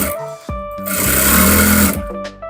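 Sewing machine stitching trouser fabric, loud and close, in short starts and stops with a sustained whirring burst in the middle.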